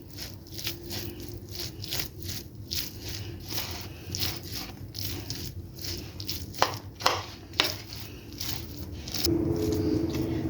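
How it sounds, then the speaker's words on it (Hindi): Soft, squishy, patting sounds come close up as hands mix an aloo gobi paratha filling of leftover potato-cauliflower curry and green coriander in a bowl, steady and quiet with a few sharper taps. "ये देखें कि हाथों की मदद से मैंने इसको अच्छी तरह मिला लिया है।"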